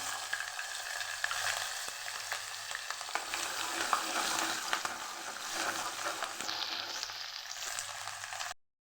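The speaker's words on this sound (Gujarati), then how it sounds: "પેલા આપણે લીલા મરચાંનો વઘાર કરશું" Green chillies sizzle in hot tempering oil with cumin, mustard seeds and asafoetida, a steady close crackling fry with stirring scrapes lasting around eight seconds before stopping abruptly.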